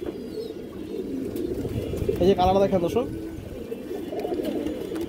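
Pigeon cooing, a female old-line Indian high flyer, heard as a short burst of low coos under a man's close speech against steady background noise.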